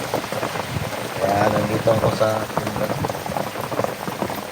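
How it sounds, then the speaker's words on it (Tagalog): Heavy rain falling outdoors along a road, a dense steady wash of noise with a voice talking over it throughout. "Lakas na ulan."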